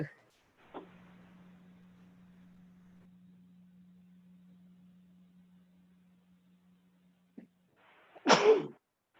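A single sharp sneeze bursts out near the end after a long stretch of low steady hum from an online meeting, loud and close against the otherwise quiet background.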